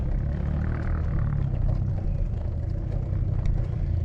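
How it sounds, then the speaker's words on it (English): A motorbike rumbles steadily nearby on a mountain road, a low engine drone holding constant with some clatter, as if passing along the road. "Something coming down, and there's a motorbike coming."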